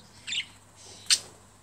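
Two short, bright chirps from sparrows, spaced apart against a quiet outdoor background.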